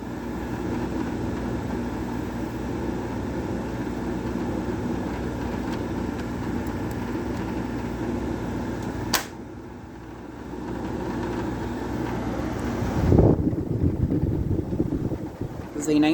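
A garage air conditioner runs on low fan, giving a steady, close mechanical hum and airy rush with a faint tonal drone. A brief knock breaks it midway, and a short rustling bump follows near the end.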